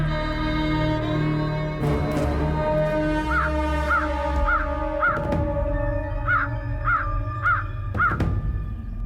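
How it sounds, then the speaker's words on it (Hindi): A crow caws repeatedly in a series of short harsh calls, some paired, loud and close over a steady background of music or ambience with no talk. "ये कौवा चिल्ला क्यों रहा है?"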